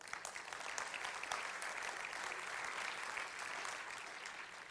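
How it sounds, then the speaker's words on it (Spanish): Church congregation applause during a Sunday sermon at Catedral de Fe, a faint but dense, even roar of many hands clapping that holds steady for several seconds. "Denle un aplauso, Señor."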